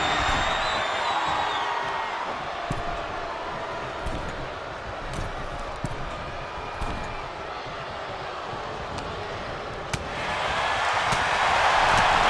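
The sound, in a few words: loud wrestling arena crowd cheering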